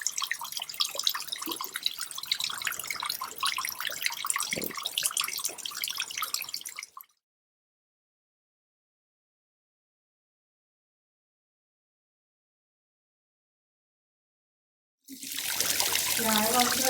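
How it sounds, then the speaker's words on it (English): Small waterfall in a conservatory, water dripping and trickling among ferns and plants, a continuous splashy patter that stops abruptly into silence and then returns near the end. "we're standing right next to this nice little waterfall, all these ferns and other plants that are loving the dripping water."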